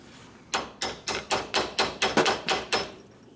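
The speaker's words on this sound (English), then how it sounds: "Hit it with a damn hammer" Sharp metallic hammer blows strike a part on a blown 1950 Harley-Davidson panhead 74ci motor in a garage, about nine to ten hits in a steady, fairly quick rhythm, close and loud.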